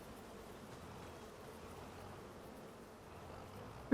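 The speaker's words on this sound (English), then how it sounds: "I hear my bees." Soft, steady insect buzzing from bees on a farm in Farming Simulator 25, a faint continuous drone under quiet ambience with no talk.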